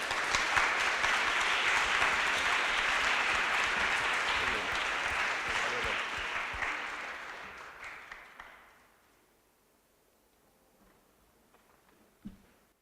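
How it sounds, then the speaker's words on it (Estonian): An audience at a student science festival awards ceremony breaks into loud, dense applause that gradually fades away, leaving near silence with one brief knock near the end. "Veel kord suur aplaus."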